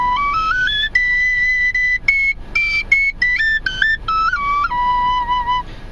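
A high, clear four-hole Cherokee whistle plays a melody of stepped notes, some held and some quick, bright and close with no other sounds.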